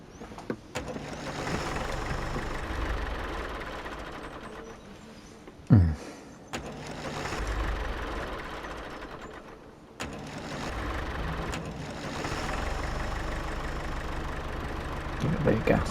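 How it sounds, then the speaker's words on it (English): A tractor engine idles steadily in Farm Sim 25, a low continuous rumble with a brief clunk and gap partway through before the drone resumes. "Well, he's got a tractor,"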